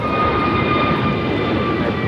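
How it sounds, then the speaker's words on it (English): A Korean Air Airbus A380 in its older livery taxis to park at LAX, its engines giving a steady, even roar with high whining tones throughout. "the older livery on the Korean Air A380 will be parking right next to the new livery"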